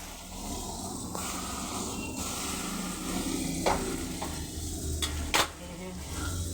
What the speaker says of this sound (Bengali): একটা দিক ভাজা হয়ে গেলে আর একটা দিক ভাজা হবে